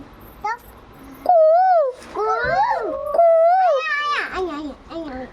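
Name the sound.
child imitating a koel (cuckoo) call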